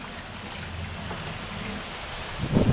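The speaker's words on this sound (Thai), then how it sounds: "จากนั้นล้างมือด้วยน้ำสะอาดค่ะ ใช้ข้อศอกในการเปิดนะคะ" Tap water runs steadily at close range while hands are washed, a continuous soft rush with a louder splash near the end and no talk.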